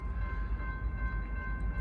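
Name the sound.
southbound Norfolk Southern freight train passing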